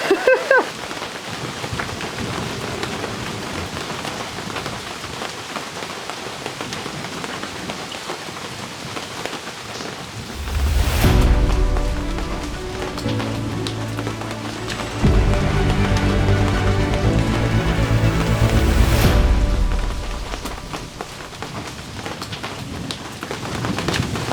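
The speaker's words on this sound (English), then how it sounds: "it looks like the storm is subsiding and I am super keen to get out there because when it rains, it pours" Heavy rain from a passing storm at a safari lodge, a steady wash of downpour that swells louder in two long surges, with a dull rumble of thunder low underneath, no talk.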